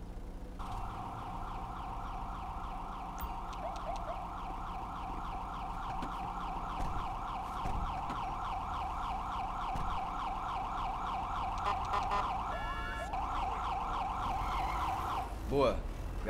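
Riot police vehicle siren in GTA 5, a continuous wailing electronic siren cycling steadily for the whole stretch, fairly close but moderate in level, with a faster yelp near the end.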